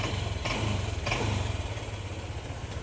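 A motorcycle with error code 08 and an intermittent check-engine light idles unevenly, its low engine pulse sputtering and hesitating with a couple of brief rev surges early on.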